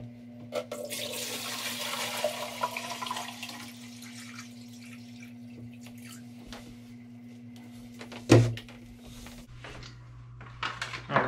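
Water pours into a small two-gallon Top Fin Intrigue aquarium tank being set up, a splashing, hissing fill over a steady low hum, with a louder splash near the end and mostly even level throughout.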